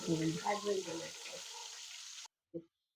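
Cumin paste fries in a pan with a soft, steady sizzle, heard first under a voice and then alone, before it cuts off abruptly and a brief clink follows.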